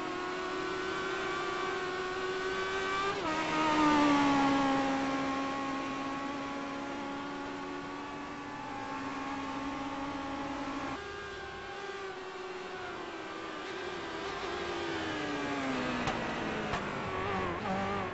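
A race car engine from a racing video game howls on a flying lap, rising in pitch through gears with abrupt shift drops and a long braking dip before climbing again, steady and close.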